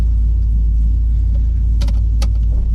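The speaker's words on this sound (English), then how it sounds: "We're gonna go for a little cruise and see how this thing drives." Interior of an LS-swapped car cruising, a loud steady low engine drone and road rumble throughout, with a couple of brief rattles or clicks near the end, no talking.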